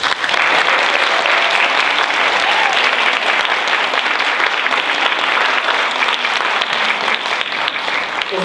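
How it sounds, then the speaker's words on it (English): A concert audience at the 2013 DKBC Thanksgiving Concert applauds the organisers in a loud, sustained round of dense clapping that holds evenly for over eight seconds. "Would you join me in giving a round of applause to those who willingly prepared this concert?"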